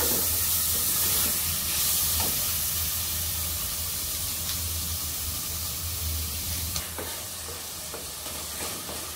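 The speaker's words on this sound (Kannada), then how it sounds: "ಸ್ವಲ್ಪ ಅರಿಶಿನ, ಸ್ವಲ್ಪ ಧನಿಯಾ ಪುಡಿ, ಖಾರದ ಪುಡಿ ಹಾಕ್ಕೊಂಡಿದ್ದೀನಿ. ಚೆನ್ನಾಗಿ ಫ್ರೈ ಮಾಡೋಣ." Turmeric, coriander powder and chilli powder frying in a pan, giving a steady broad hiss that runs throughout with occasional faint crackles and ticks.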